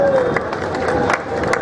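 A crowd in a hall at a Holi gathering breaks into applause, a short, loud burst of clapping and crowd noise with a few sharp claps standing out.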